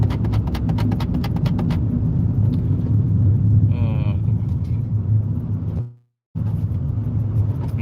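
Steady low road rumble from inside a moving car, loud and close, with a voice briefly over it at the start and a short total dropout near the end.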